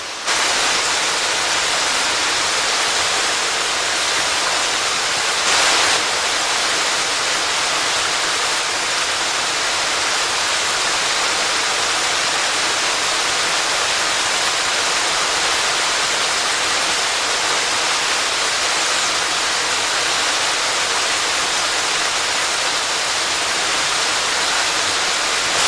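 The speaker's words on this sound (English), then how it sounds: "Got the waterfall right there." Keyser Run Falls in Shenandoah National Park pours in a steady, full rush of falling water that stays loud and constant from start to end, with no voices.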